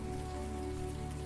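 Steady rain falls on hard surfaces in a city street scene of the video game Unavowed, a dense continuous patter with no individual drops standing out, alongside a faint low tonal hum.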